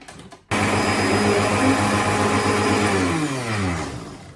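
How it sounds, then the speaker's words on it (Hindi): A blender whirs loudly and steadily as it purées paneer in a jug, switching on abruptly after a quiet moment, then the motor pitch sweeps and shifts near the end. "अब इसको 1-2 मिनट के लिए हम ब्लेंड कर लेंगे।"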